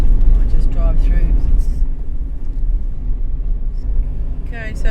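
Car driving through the small roadside stop of Balladonia, a loud, steady low engine and road rumble heard from inside the vehicle, with brief voices and chatter over it at the start and end.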